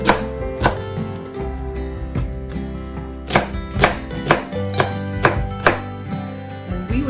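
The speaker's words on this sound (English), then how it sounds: "we would keep going until we slice up this entire half of a head of cabbage" A knife cuts through half a head of cabbage on a board, slicing it into thin strips; the sharp chops come close and loud, in uneven bursts, with no talking.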